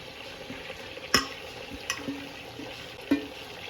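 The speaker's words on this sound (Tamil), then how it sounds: "இந்த ஒரு 10 நிமிஷம் வந்து நல்லா ஃப்ரை ஆகட்டும்." A whole chicken fries in oil with masala, giving a steady low sizzle with a few sharp clinks and scrapes of stirring scattered through it.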